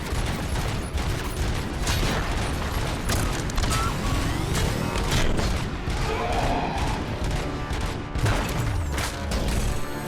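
Loud, dense gunfire and booming impacts from the video game Robocop: Rogue City fill the whole stretch, with bursts of shots, crashes and mechanical clatter layered in a constant chaotic din; a voice is faintly present beneath.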